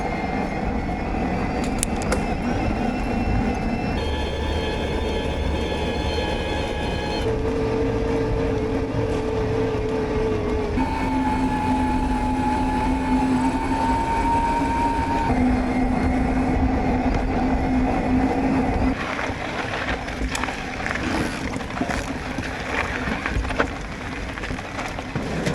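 A Bosch CX Gen 5 e-bike motor runs on a trail at different support levels and cadences, giving a steady electric whine whose pitch steps up and down between sections, continuous and close with no talking.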